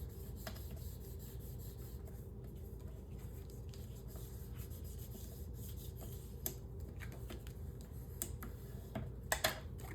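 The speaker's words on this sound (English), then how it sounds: "and then burnish it down" Paper score line on a half-inch adhesive flap of a handmade mini album being burnished down by hand, a faint, soft rubbing with a few light ticks and taps, quiet and close, with no talk.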